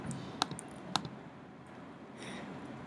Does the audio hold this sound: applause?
no